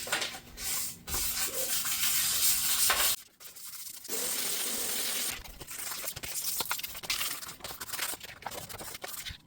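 An electric sander hums and rasps against an epoxy and wood tabletop, stopping briefly and starting again, close up and steady.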